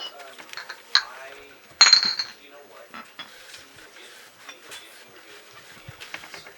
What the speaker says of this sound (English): Glass bottles everywhere.